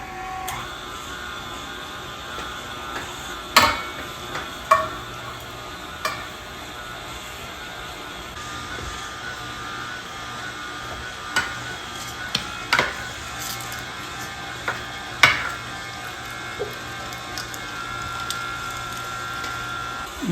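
A meat grinder does a fine grind for Guinness corned beef sausages. A steady mechanical hum runs throughout, broken by irregular knocks and clacks close by.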